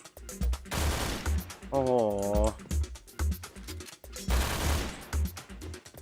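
Rapid bursts of gunfire from bots in the shooter game Point Blank (PB), loud repeated volleys separated by brief pauses, with a voice exclaiming in between.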